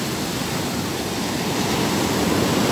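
Ocean waves and a strong current at Sitio Liwliwa beach in San Felipe, Zambales: a steady, loud wash of surf noise with no break, no distinct wave crashes standing out, and no voices.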